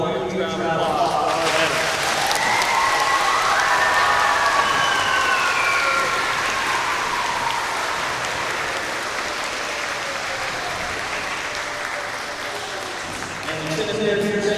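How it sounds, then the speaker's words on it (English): Sustained applause from a large audience at an elementary school Veterans Day program, loud and steady for about thirteen seconds before tapering off, with cheering rising over it. "So let's get one more huge round of applause."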